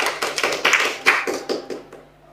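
An audience claps on cue at an Indonesian-language religious talk: about ten sharp, separate hand claps in quick succession, fairly close and loud, thinning out and fading toward the end.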